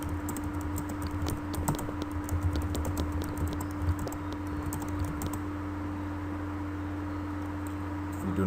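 Fast, close clicking of keys on a computer keyboard rattles on for about five seconds, then stops, leaving only a faint steady hum.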